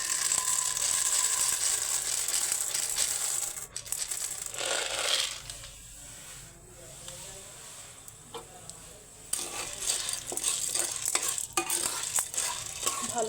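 Unpopped popcorn kernels stirred with salt and ghee in a pan, giving a steady gritty scraping and rattling with a light sizzle, close and continuous with a brief quieter pause midway.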